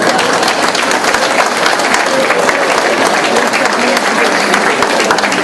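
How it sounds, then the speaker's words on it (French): Loud, dense applause from a large crowd at a volunteer awards ceremony in Princeville, continuous and sustained throughout, with many hands clapping at once. "applaudissez-vous."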